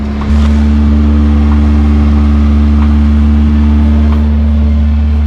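A mini truck's engine starts up and then idles steadily and loudly nearby, producing a deep, constant low hum with a few faint clicks over it, with no talking.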